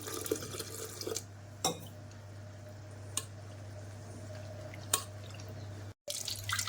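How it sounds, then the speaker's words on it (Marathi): Water is poured into jowar flour in a vessel in a soft, continuous trickle, with a few sharper splashes and drips and a low hum running underneath. "आता मी त्याच्यामध्ये थोडंसं पाणी टाकून त्याला कालून घेते"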